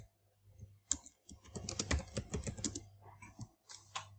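Search text being typed on a computer keyboard, a quick burst of close, quiet key clicks in uneven rhythm with short pauses between, no talking.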